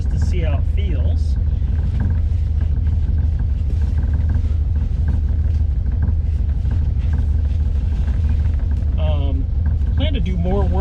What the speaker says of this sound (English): I'm going to take this car out for the first drive just to see how it feels